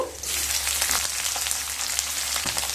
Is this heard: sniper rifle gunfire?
no